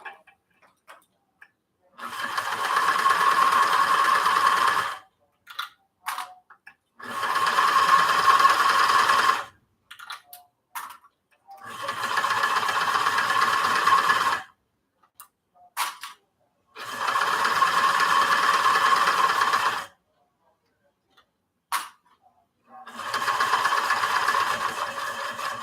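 A sewing machine runs through a long hem in several steady bursts lasting a few seconds each, a close, even mechanical whir with brief pauses between runs and no speech.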